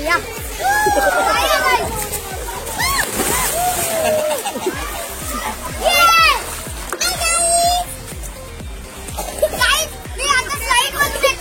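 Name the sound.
child jumping into pool water, splashing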